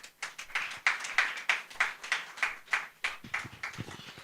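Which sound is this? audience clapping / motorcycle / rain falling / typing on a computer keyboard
audience clapping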